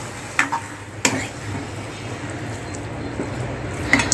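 A spoon stirs milk into prasad sheera in a pan, giving soft wet scraping and squishing over a low background hiss, with a few sharper clinks against the pan.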